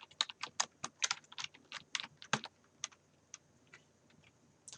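Typing on a computer keyboard, a quick run of crisp, close key clicks that thin to a few scattered taps near the end.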